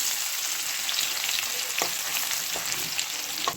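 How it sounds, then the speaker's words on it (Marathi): Cumin and mustard seeds sizzle in hot oil for matki bhaji, a steady close crackling hiss with a few louder pops, alone without talk. "आता तेल घातले, जिरी मोहरी घाले, लसूण पेस्ट करा"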